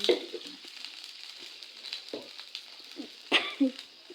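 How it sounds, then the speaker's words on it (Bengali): Panch phoron, the five-spice mix, fried in a pan and then doused with water, hisses steadily at moderate volume, broken by short bubbling bursts and spits. "তো এই যে এখন ভাজা হয়ে গেছে, পাঁচফোড়নটা জল ঢেলে দিয়েছি।"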